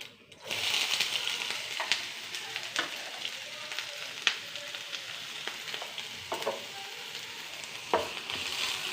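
Carrot, onion, ginger and curry leaves fry in hot oil for an okra stir-fry, giving a close, steady sizzle broken by sharp, scattered pops and crackles of mustard seeds bursting.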